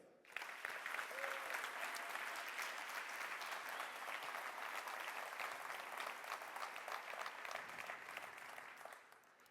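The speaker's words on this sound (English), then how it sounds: "Let's put our hands together and a big applause for the 2024 class of the Techstars Transformative World Torino Accelerator." A crowd at a Techstars accelerator demo day in Turin claps for the new startup class, a sustained, fairly distant wash of many hands that rises quickly and carries on evenly for several seconds.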